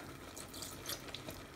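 Water runs quietly and steadily into an acid dye pot as more is added to keep it from boiling dry, a soft faint pour with no talk.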